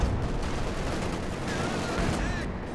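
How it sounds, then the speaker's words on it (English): An Su-76 artillery barrage in Company of Heroes 2, heavy rumbling battle noise with dense overlapping blasts and gunfire across the whole moment, loud and continuous. "now is this barrage coming in from Su-76"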